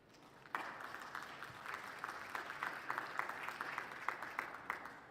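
Audience applause breaks out at a mining industry conference panel session, a sustained round of steady clapping from a crowd that starts abruptly and continues evenly without talk.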